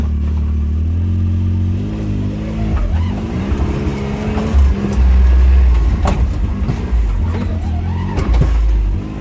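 A Can-Am Maverick X3 off-road vehicle in low range grinds over a rocky bush track, its engine droning loudly with a revving whine, while suspension and body rattle and thud over the rocks.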